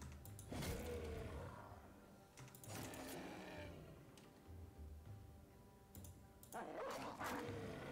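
Dogs barking in a video game: three loud bursts of harsh, growling barks set apart by short gaps, over a low background hum.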